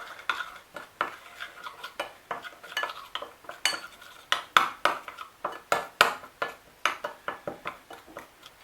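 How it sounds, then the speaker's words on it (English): A spoon stirring spices, parsley flakes and lemon juice in a bowl, with rapid repeated clinks and scrapes against the bowl in an uneven rhythm, close and fairly quiet. "Mix everything up."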